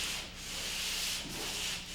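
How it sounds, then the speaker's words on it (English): A hand sanding block rubs lightly over dried drywall joint compound in a few slow back-and-forth strokes, a soft gritty hiss that swells and dips, quiet and close, with no voices. "I like to sand out any trowel marks or ridges or unfeathered edges that I left while second coating"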